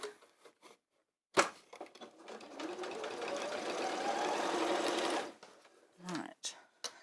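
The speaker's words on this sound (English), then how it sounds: "we'll sew all the way around the outside" A sewing machine stitches around the outside edge of a fabric bag, a steady close mechanical whirr lasting a few seconds, framed by short clicks and handling sounds before and after.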